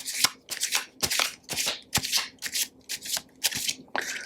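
A deck of Lenormand fairy cards being shuffled by hand, with about nine crisp riffling bursts in steady rhythm, close and clear, and no voices.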